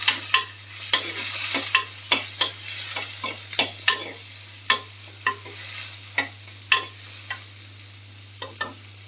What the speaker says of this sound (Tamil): இந்த எண்ணெயில் நல்லா வெங்காயம் வெந்த பிறகு தக்காளி போடுறோம்